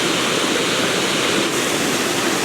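Waterfall roaring close in front, a dense, steady rush of falling water at high level with no change in intensity, no voices.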